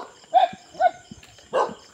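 A dog barks three times at close range, short sharp yaps spaced irregularly with quiet gaps between them, heard outdoors near an old abandoned house.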